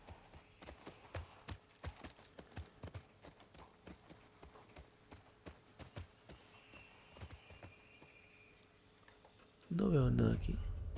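Horse hooves clip-clop steadily at a walking pace in The Last of Us Part II, fairly faint and regular for about ten seconds before a louder burst of other sound takes over.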